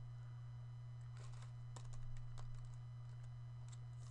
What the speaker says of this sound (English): I'm just going to go ahead and type in the VIN number